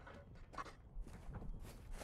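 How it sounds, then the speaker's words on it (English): Footsteps of approaching enemies in a multiplayer shooter video game, a quiet, irregular patter of steps over low ambient game noise, fairly faint and distant, with no voices in the clip. "hear them footsteps"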